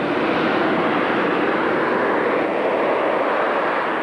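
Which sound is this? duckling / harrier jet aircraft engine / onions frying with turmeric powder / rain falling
harrier jet aircraft engine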